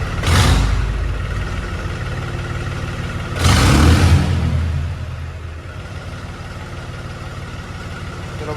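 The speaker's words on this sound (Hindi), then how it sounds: "अब देखो भाई कैसे स्टार्ट होता है ट्रैक्टर एक बार में।" A modified tractor engine cranks and fires up, with two sharp bursts of revving separated by a few seconds, then settles into a steady low idle rumble close by.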